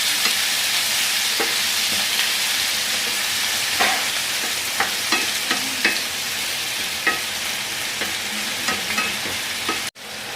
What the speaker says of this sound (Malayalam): തക്കാളി ഇട്ട് നല്ലപോലെ വഴറ്റി കൊണ്ടെടുക്കാം